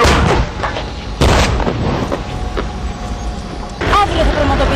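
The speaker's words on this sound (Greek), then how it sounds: "Οι εκρήξεις που βλέπετε μπροστά σας απεικονίζουν τις βολές του εχθρικού πυροβολισμού." Artillery fire explodes during a military exercise: two heavy booming blasts land a few seconds apart, loud and broad, over a steady rumble of background noise.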